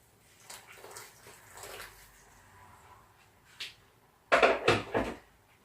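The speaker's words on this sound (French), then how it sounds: "on va rajouter de l'eau" Water poured into a pot of mushroom rice, with soft handling clatter early on and then a loud close splashing pour in short gushes near the end.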